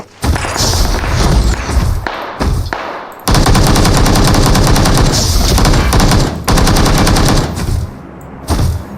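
Gunfire in PUBG Mobile: loud, close bursts of rapid automatic fire with heavy thuds, running almost continuously with a few short pauses between volleys.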